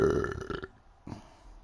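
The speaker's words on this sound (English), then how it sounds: "That was a gassy burp from a gassy guy." A single gassy human burp, loud and close, lasting about half a second, followed by a short breathy sound after a brief pause.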